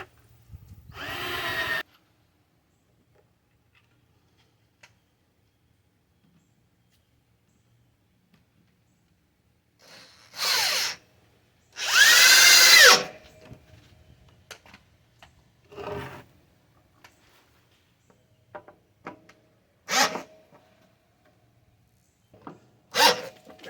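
Several short bursts of a cordless drill whirring in separate runs, with quiet gaps and a few small clicks and knocks between.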